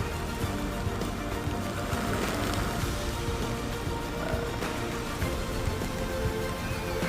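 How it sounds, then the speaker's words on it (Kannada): Rain falling steadily at Jog Falls in foggy weather, a dense, even hiss of drops that fills the whole stretch with no pauses and no voices. "ಜಸ್ಟ್ ಬಿಕಾಸ್ ಮಳೆ ಬರ್ತಿದೆ ಅಂತ"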